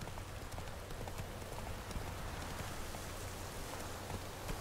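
In The Witcher 3, a horse trots along at a steady clip-clop under constant rain pattering on the ground, the hooves faint and evenly paced beneath the downpour.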